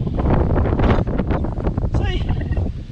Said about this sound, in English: it's blowing. I'm sorry about the wind.